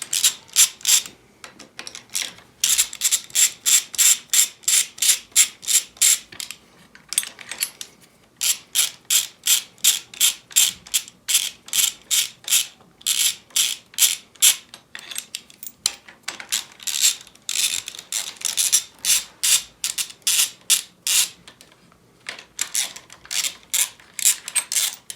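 Ratchet wrench cranking on the handlebar bolts of a Yamaha XS1100 motorcycle, rapid bursts of sharp metallic clicks repeated in steady strokes with brief pauses between, close and loud.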